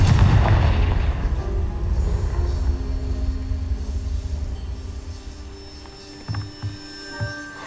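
Confringo blasting spell in Hogwarts Legacy: a heavy, booming explosion at the start with a rumbling decay, followed later by a few faint thuds of debris settling.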